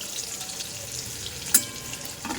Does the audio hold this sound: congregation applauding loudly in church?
no